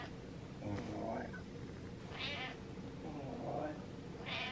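A pet cat meows twice indoors, the two calls spaced a couple of seconds apart and standing out clearly over a low background hum.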